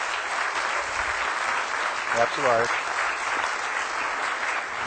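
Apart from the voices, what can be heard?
audience applause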